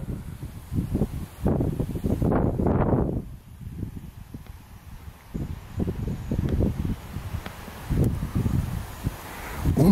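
Gusty stormy wind buffets the microphone in loud, irregular bursts while a DJI Mavic Pro drone flies, with rustling and rushing air rising and falling throughout.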